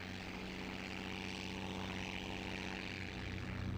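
A replica 1915 propeller aeroplane flies at an air show, its engine and propeller droning steadily with a rough, pulsing tone throughout, no voices over it.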